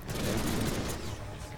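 Deadpool video game gunfire roars as a continuous, loud, booming barrage that fills the whole short moment with no pause.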